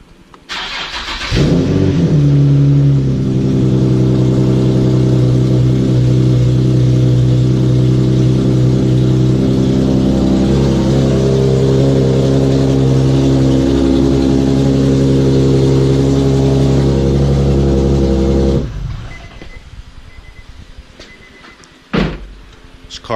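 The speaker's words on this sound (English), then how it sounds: "This car is really loud" A 2008 Infiniti G37S engine cranks and starts after a valve cover gasket repair, then runs with a loud, steady roar for a long stretch before cutting off, followed by a few clunks.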